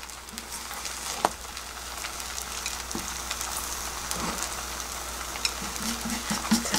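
Beaten egg mixture for a rolled omelette fries in a pan with a soft, continuous sizzle and crackle, punctuated by a few light scraping and tapping sounds.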